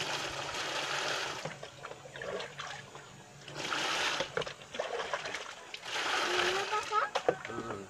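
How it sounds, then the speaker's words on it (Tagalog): Clean water is poured and splashed for hand-washing laundry, with irregular bursts of splashing and trickling alternating with quieter pauses, mixed with faint background noise. "lagyan ulit ng bagong malinis na tubig."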